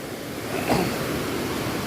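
Water rushes steadily down a Kolli Hills waterfall, a dense continuous roar filling the scene without pause, with no voices.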